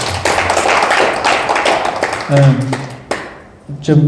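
An audience at a Korean Buddhist lecture on the Middle Way claps for about two seconds. The dense clapping then breaks off into someone speaking.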